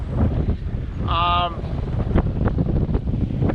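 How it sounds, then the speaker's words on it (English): Wind rushes over the microphone aboard a sailboat at sea, a constant loud roar, with a brief tonal honk-like whine in the middle and a few faint knocks. "wind might be backing a little. It's still northwest, almost west northwest, so it's basically dead on our nose"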